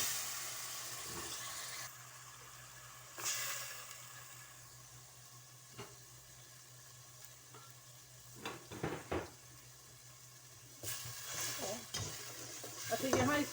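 Quiet sizzling of blended garlic, ginger and onion paste frying in a pan, with occasional stirring scrapes and clinks that grow busier toward the end.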